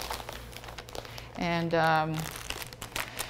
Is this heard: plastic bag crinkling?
yes